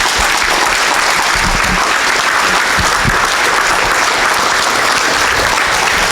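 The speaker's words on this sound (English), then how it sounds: "Give Brad a great big hand." Audience applause at a morning real estate seminar: dense, loud, steady clapping from a room full of people, sustained throughout with no voices.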